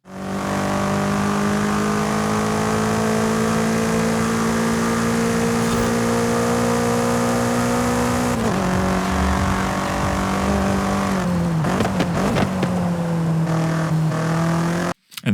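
A BMW F90 M5 CS's 4.4-liter twin-turbo V8 in Forza Horizon 5 drones loudly and steadily under full throttle on a track, its pitch climbing through long pulls with brief dips at gear shifts near the end.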